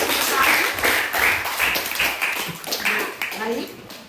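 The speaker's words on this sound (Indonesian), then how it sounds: "Kita berikan tepuk tangan dulu." A class claps together after a group presentation on Borobudur at a high school, a loud run of slightly uneven hand claps filling the whole span.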